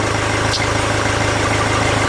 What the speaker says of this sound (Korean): 엔진 시동하십시오.